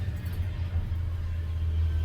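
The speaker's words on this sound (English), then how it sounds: "Geez, there goes a big dump truck." A big dump truck passes somewhere outside, heard as a low, steady engine rumble that is faint and distant, with no voices.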